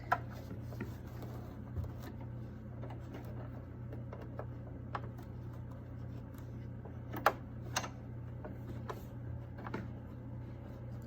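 A sewing machine stitches a fabric mask, producing a steady low motor hum with irregular light ticking clicks and a few sharper taps, fairly quiet and close.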